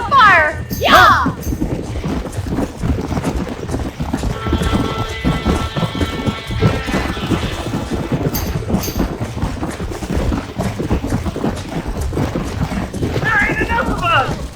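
Horses neighing and hooves clattering inside a burning barn in the Red Dead Redemption video game, a loud, busy scene with whinnies near the start and end over steady clip-clop and shouting voices.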